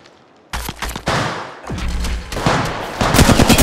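Gunfire in the mobile shooter Apex Legends Mobile, loud close bursts of rapid automatic fire broken by short pauses, growing denser toward the end.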